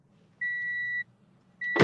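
Vehicle reversing beeps coming through a phone line: two long, steady electronic tones, the first lasting about half a second, then a gap, then a second tone cut off by a burst of noise.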